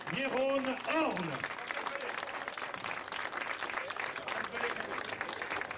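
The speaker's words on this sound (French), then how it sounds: "on l'applaudit bien fort" Crowd applause fills the air for a cyclist on the podium at a Tour de la Manche stage in La Haye-Pesnel, steady dense clapping throughout, with a voice briefly announcing over it at the start.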